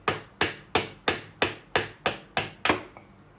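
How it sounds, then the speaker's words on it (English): A hammer taps a wood block against a wood lathe shaft in a steady series of eight sharp, evenly spaced knocks, close and clear with brief ringing decay. "I need to bring a piece of wood with a hammer, and I need to tap the shaft here"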